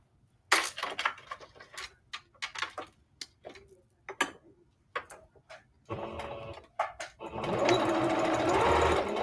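A home sewing machine stitches pockets onto palazzo pants made from a skirt, first in short stop-start bursts of rapid mechanical clatter separated by silences, then running in longer, louder continuous stretches at the end.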